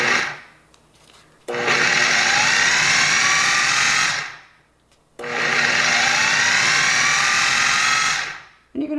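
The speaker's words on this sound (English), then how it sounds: "we'll be putting this in our food processor. We're just gonna pulse." A food processor pulses a filling of bacon and ramps in two long whirring bursts of about three seconds each, separated by a short pause, loud and close with no talking.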